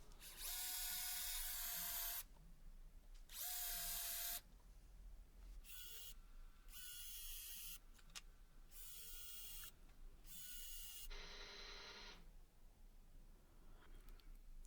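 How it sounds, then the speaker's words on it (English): A power drill bores pilot holes in pallet wood in a series of bursts, two long high whines followed by several shorter ones, loud and close with quiet gaps between, no talk. "And I drilled pilot holes ready for the screws."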